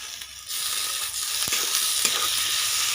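Spices being sautéed in a pan with fried potatoes and snails, a loud, constant sizzle that swells after a quieter start, with a few sharp stirring clicks.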